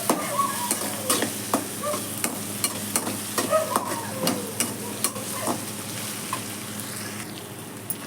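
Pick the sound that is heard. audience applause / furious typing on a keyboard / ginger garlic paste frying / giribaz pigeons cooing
ginger garlic paste frying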